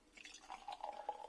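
Monnow Valley Betty Prosser 2019 cider, a keeved-style farmhouse cider, poured from a bottle into a glass, a faint trickling and gurgling pour with a soft fizzy rise, quiet and close, no talk.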